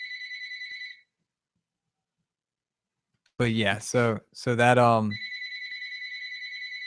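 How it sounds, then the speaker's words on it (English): A telephone rings with a steady electronic warble for an incoming call, heard during a sports talk radio show. It rings once, falls silent while someone talks, then rings again. "getting a phone call"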